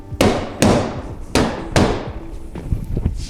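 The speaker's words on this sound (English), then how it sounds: "little rubber mallet never hurt anybody" Four sharp, loud strikes of a rubber mallet land on a car bumper being knocked back into shape, spaced irregularly, followed by softer, quicker taps and handling noises nearby.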